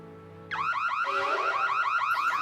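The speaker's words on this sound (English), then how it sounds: "Oh no, I forgot to shut off the alarm system." A house alarm system going off, starting suddenly after a low steady hum and then warbling loudly and continuously in rising, repeating electronic sweeps.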